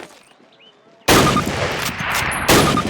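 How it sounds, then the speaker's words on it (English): A Thompson submachine gun in Call of Duty fires a loud, sustained burst of rounds that starts abruptly after a quiet moment and rattles on steadily, with a brief pause before a final burst. "Fire 3 more rounds at your target."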